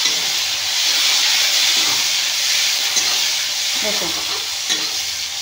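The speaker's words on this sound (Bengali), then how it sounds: "এরপর আমি দিয়ে দেব পেঁয়াজ। পেঁয়াজটা একটু ভালো করে ভেজে নেব।" Onions frying in oil in a home Bengali kitchen, a steady close sizzle and hiss that fills the whole stretch, with light stirring clicks and a brief spoken word.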